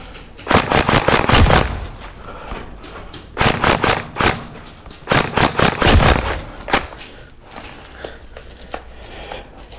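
An airsoft gun fires during an outdoor airsoft game in three rapid automatic bursts of sharp, loud, close cracks, separated by short pauses.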